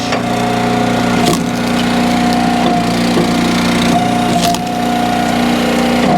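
An Eastonmade Ultra log splitter with a single wedge splits firewood over a loud steady engine drone, with sharp wood cracks and splintering snaps at intervals.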